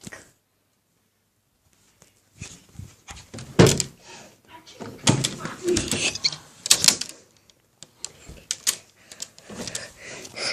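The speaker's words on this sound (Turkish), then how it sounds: "Kapıyı açmaya çalışıyor." In a horror video game, someone struggles to open a door, producing repeated thumps, rattles and knocks after a brief silence, with voices talking over the noise.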